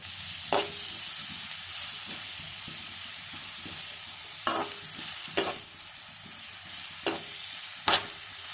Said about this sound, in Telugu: మధ్య మధ్యలో గరిటతో ఉల్లిపాయ ముక్కలు కదుపుకుంటూ ఉండాలి, లేదంటే మాడిపోతాయి